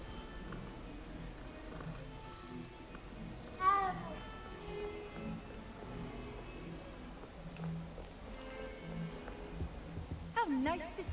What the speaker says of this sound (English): Why are there so many cats around Hogwarts?